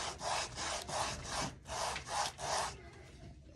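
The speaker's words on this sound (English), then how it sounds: "Just keep sanding on it." Rhythmic back-and-forth sanding strokes on the edge of a leather sheath, about six steady rasping passes, close and clear with no talking.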